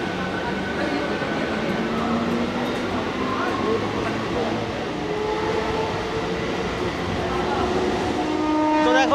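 A Howrah to Digha local train runs steadily after leaving Bagnan, its wheels and carriages rumbling continuously up close, with squealing tones rising near the end and a voice talking over it.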